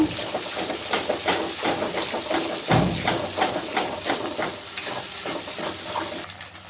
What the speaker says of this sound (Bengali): তারপর টমাটো কেচাপ দিয়ে দেবো সামান্য, ভালো করে নাড়িয়ে নেব